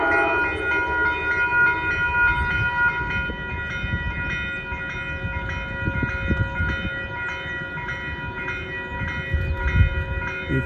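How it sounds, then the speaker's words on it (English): A northbound passenger train on the Hudson Line rumbles steadily past Manitou station, New York, with a sustained horn tone and clacking wheels on rails, loud and nearby, without speech. "And here comes the northbound train."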